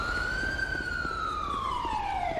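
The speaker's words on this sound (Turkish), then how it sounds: "Ambulans geldi." An ambulance siren in the video game GTA 5 wails steadily in one long sweeping tone that rises and then falls, loud and close, with no talk over it.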